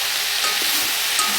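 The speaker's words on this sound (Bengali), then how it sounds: "শাকগুলো জড়ে গেছে, এবার ঢেঁড়সগুলো দিয়ে দিচ্ছে।" Okra and greens being stirred and fried in a pan, a dense continuous sizzle heard close and fairly loud, with faint scraping of stirring.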